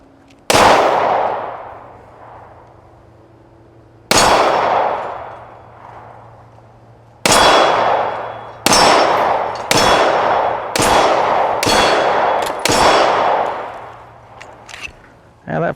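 Star Super A pistol chambered in 9mm Largo fired at an outdoor range: loud, sharp single shots ringing off targets with a metallic clang, first spaced apart then in a quicker string of about six, ending in fainter knocks.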